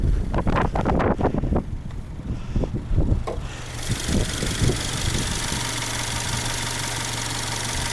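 Engine of a 2021 Subaru Legacy XT turbo sedan while driving, a loud rumbling pull with low thumps at first, then giving way to steady broadband wind and road roar.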